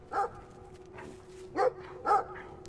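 A dog barks in the video game Brothers: A Tale of Two Sons, three separate gruff barks spaced apart over a low steady background, fairly close and loud.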